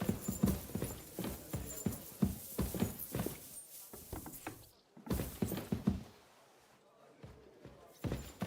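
Horse hooves clip-clop in Kingdom Come Deliverance 2, a close, steady rhythm of hoofbeats that breaks off briefly near the middle, resumes for a short run, then fades to near silence before a final step.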